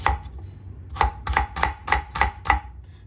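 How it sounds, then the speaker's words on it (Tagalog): Seven crisp knife chops through an onion on a cutting board, evenly spaced at a quick steady rhythm, close by with no talking. "next is hihiwain natin tong ating sibuyas"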